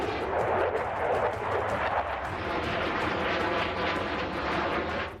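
F-15 and F-16 fighter jets roar overhead in a loud, sustained rush of engine noise with a rough, crackling texture, heard alone without talk.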